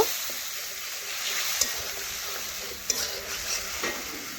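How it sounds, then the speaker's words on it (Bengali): Spices fry and sizzle in hot oil in a pan as they are stirred for a vegetarian curry gravy, making a continuous close crackle with occasional sharp scraping clicks of the spoon. "এভাবে নাড়াচাড়া করে মশলা আমি কষে নেব"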